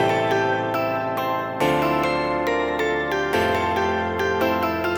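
Bright, chiming bell tones ring over sustained piano chords, repeated bell strikes riding above a few chord changes in a steady loop, clear and moderately loud with no voices.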